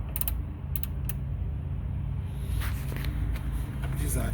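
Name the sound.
unscrewing fuel filler neck bolts on Mitsubishi Eclipse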